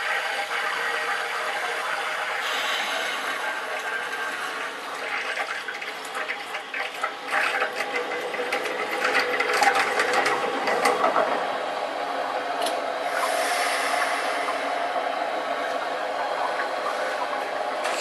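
A new electric water heater fills through its open fill valve with a steady rushing, hissing flow of water. The sound stays continuous, swells slightly midway and stays up close, with no one talking.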